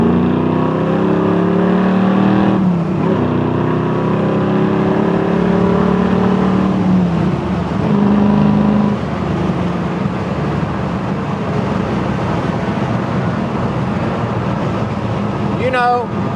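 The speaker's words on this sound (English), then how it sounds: "5th gear drops it down to overdrive at a very civilized RPM" A 1968 Mustang Fastback restomod cruises in fifth-gear overdrive at low RPM, with a steady engine drone and road noise inside the cabin throughout, and people talking over it.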